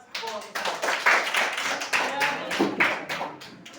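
Small group clapping in a classroom session, a run of uneven bursts of hand claps at close range with voices mixed in, rising and falling over a few seconds.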